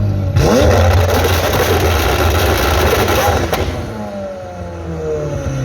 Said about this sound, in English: this is like the loudest 720S that they have here currently, which I'll put the clips right here to let you know how loud it is